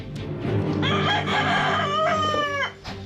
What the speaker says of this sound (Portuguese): O canto do galo avisava sobre a chegada da polícia.